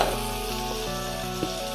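A small onion added to a spoonful of hot oil in a pan sizzles steadily and gently, a soft continuous frying hiss with a faint clink partway through, no talking.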